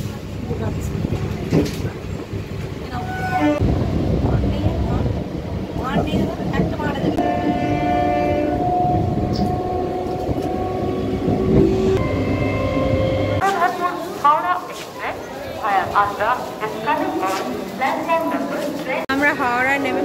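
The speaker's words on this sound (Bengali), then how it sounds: "ট্রেন এসে গেছে, চারজনেই বসে আছি।" A local train runs along the rails near Howrah, with steady wheel rumble and a sustained horn, then a lighter rattling passage; people talk over it throughout.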